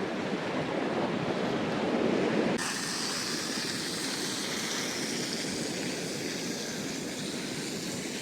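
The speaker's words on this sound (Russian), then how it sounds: "Ну, сегодня волны." Sea waves roll onto a beach in Mersin, a steady, loud surf wash close by with wind noise and no voices.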